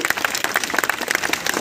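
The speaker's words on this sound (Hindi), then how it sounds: "इन सबको ताली बजा दो बेटा।" Schoolchildren clap together at a school cleanliness poster and slogan event, a brisk, continuous patter of many small hands, close and fairly loud.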